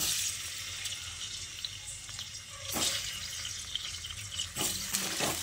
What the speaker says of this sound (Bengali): পেঁয়াজ ভেজে তুলে নেওয়ার পর ওই তেলের মধ্যে আমি আলুগুলোকে দিয়ে ভেজে নেব।